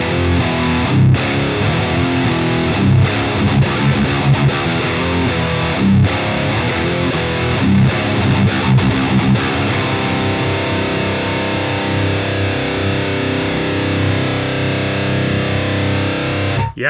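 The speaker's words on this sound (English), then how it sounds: "You could really hear how percussive it gets as soon as we go into the red mode of the boost channel there." A high-gain guitar amplifier on its boosted red-mode channel, heavily distorted, with chugging, percussive riffing that runs continuously and loud for the whole stretch, with no voices.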